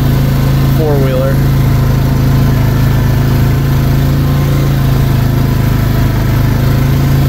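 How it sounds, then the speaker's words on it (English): A four-wheeler ATV engine runs steadily, its loud, close drone of low harmonics holding at a constant pitch for the whole stretch. "Four-wheeler."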